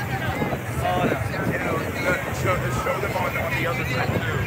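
A speedboat bouncing fast across choppy water in New York City, with steady engine drone, rushing water, and heavy wind buffeting the microphone; voices can be heard under the noise.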